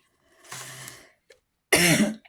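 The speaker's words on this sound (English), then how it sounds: "Please excuse my cough" Two coughs close to the microphone: a muffled, rasping one, then after a short pause a louder, harsher one.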